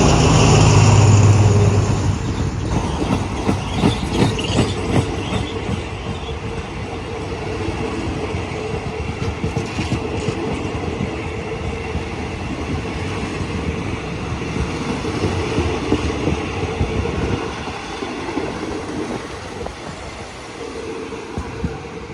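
An Alsthom 4305 diesel locomotive rumbles loudly as its train pulls into Ban Pong station in Thailand, with continuous engine drone and wheel clatter that eases slightly toward the end.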